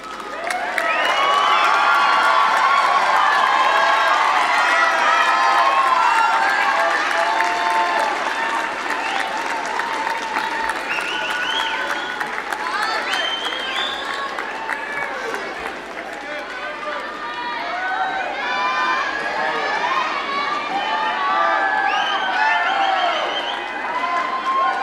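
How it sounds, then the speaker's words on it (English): Graduates at a university graduation ceremony cheer, shout and applaud in a loud, sustained roar that swells and then eases slightly, filling a large hall with many voices. "turn around to face the audience, and then doff your caps and cheer and wave at your supporters"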